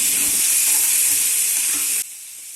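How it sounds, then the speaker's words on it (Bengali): Prawns are stirred into fried masala in a pan, a bright, hissing sizzle with soft stirring scrapes that cuts off abruptly near the end, leaving quieter background. "চিংড়ি মাছগুলো দেওয়ার পর 1 মিনিটের মতো আমি একটু নাড়াচাড়া করে নেব, যাতে মশলাটা চিংড়ি মাছের সাথে মিশে যায়।"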